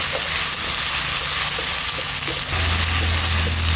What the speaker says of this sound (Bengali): পেঁয়াজ আর আদা বাটাটাকে ভালো করে আমি নেড়ে চেড়ে নিচ্ছি।